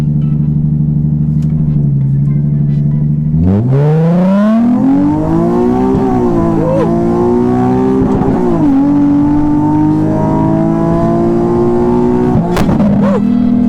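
A tuned Nissan 370Z engine idles loudly, then revs up hard and pulls, its pitch climbing and holding through gear changes in a sustained, aggressive roar.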